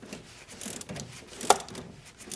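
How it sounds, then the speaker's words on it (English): A pass-through socket ratchet loosens a 17mm nut on a sway bar end link, giving short bursts of clicking pawl and metallic clinks of tool on the suspension part, close by with no talking. "So we're going to go ahead and remove that with our pass-through socket."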